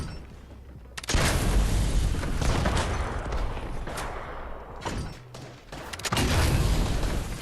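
Gunfire in the Fortnite Battle Royale video game comes as dense, loud bursts of shots and booms that fill most of the span, with brief lulls between barrages.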